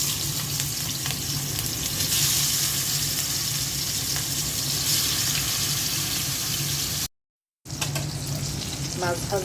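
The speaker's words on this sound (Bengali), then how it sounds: "মাছটা ভেজে রান্না করব।" Rohu fish pieces frying in hot oil in a home kitchen, a loud continuous sizzle and crackle close up, broken by a short gap and then resuming, with a little stirring.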